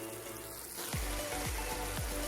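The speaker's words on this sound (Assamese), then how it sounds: "ফ্লেমটো মিডিয়াম কৰি ৰাখিব এনেকৈ অকণমান সময় ভাজি লওঁ" Carrots for carrot halwa frying over medium flame in a pan, a quiet crackling sizzle with a few low thumps from stirring, close and fairly faint, with no talk.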